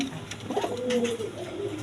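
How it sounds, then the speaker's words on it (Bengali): A pair of Andalusian-coloured racing pigeons, a cock and a hen, coo close by in a couple of low, rolling calls over a steady background hum. "দা এখানে এক পেয়ার রেশার কবুতর আছে দেখেন অ্যান্ডোলেশিয়ান কালার"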